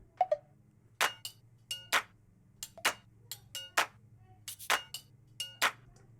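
Glass percussion with claps from the second part of a song's chorus: bright, clinking ticks and sharp hits repeat in a steady, quick rhythm over a low sustained hum, close and clear with no voices.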